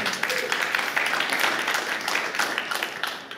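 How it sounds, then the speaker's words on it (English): A conference audience at Breakpoint 2023 claps during a Web3 gaming talk, a steady wash of many hands that carries on evenly and moderately loud, then tapers near the end. "You can clap"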